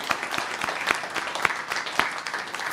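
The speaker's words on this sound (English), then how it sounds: "give me a round of applause" A small audience at a town council meeting claps in a brief burst of applause, the claps quick and uneven, fairly close and steady throughout.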